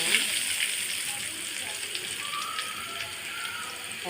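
Bay leaves sizzle in hot oil in a wok, a soft, steady hiss heard faintly over a few seconds, with a voice speaking lightly over it.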